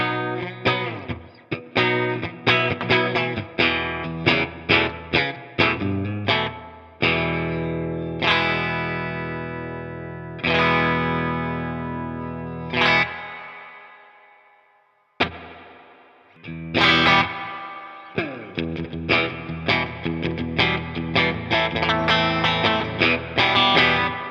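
An electric guitar played through a Walrus Audio Fundamental Series reverb pedal, with strummed chords and single notes ringing into long washy tails that fade out before the playing resumes, loud and close.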